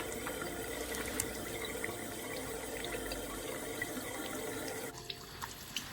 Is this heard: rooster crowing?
no